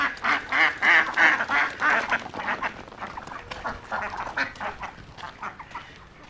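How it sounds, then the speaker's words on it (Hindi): Several ducks quack loudly in repeated bursts close by, their calls fading to a softer, scattered quacking toward the end. "चलो बतख"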